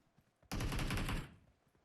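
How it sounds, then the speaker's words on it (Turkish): Burst of gunfire in the PUBG Mobile battle royale game, a dense automatic volley lasting under a second after near silence, then trailing off quickly. "Kim sıkıyor lan?"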